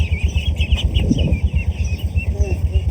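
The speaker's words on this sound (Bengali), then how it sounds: "হাঁসের বাচ্চা" Ducklings on a riverside char in the Padma region give high, repeated peeping calls against a low rumbling background, with a voice briefly heard.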